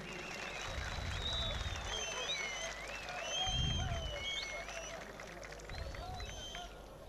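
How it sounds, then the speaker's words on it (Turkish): Crowd applause at a Turkish oil wrestling arena during a league quarterfinal: broad, sustained clapping rises and swells midway, with shrill high whistle-like tones and voices running over it. "Kocaman bir moral alkış istiyoruz"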